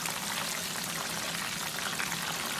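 Shrimp (camaron) fry in hot oil with a steady, dense sizzle and crackle that stays even throughout and has no voices over it.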